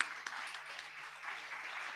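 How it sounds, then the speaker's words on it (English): Applause from a conference audience at a forum event, a steady, fairly faint wash of clapping lasting throughout without any voices on top. "Let's give that a round of applause."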